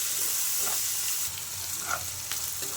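Spices fry in a pan for an ivy gourd stir-fry, giving a steady close sizzle with a few brief crackles and a faint stirring scrape, and no talk over it.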